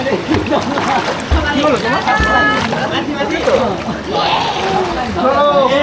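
People swimming in the Yelbong River canyon splash and slosh through the water close by, with irregular splashes mixed under lively talking voices.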